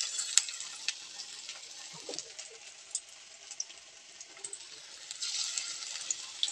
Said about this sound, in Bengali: তেলটা আমার গরম হয়ে গেছে, আমি চপের মতন সাইজে করে তেলের মধ্যে দিয়ে দিলাম।